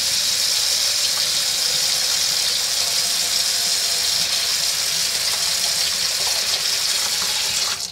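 Water-based paint brushes are rinsed under a tap, and the loud, steady rush of running water fills the whole stretch close up, with no talk over it.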